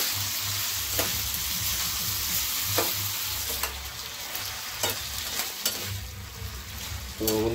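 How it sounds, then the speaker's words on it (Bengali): Egg and potato frying in a pan, stirred steadily with a spatula: a continuous sizzle with regular scraping strokes and occasional sharp clinks against the pan, no talking. "এটাকে এখন ভালো করে এখন নেড়ে নেওয়া হচ্ছে।"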